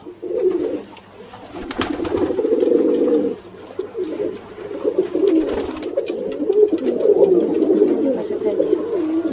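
Pigeons, including Danish and Lahori breeds, coo steadily in low, throaty rolls, close by, with the murmur of several birds overlapping throughout.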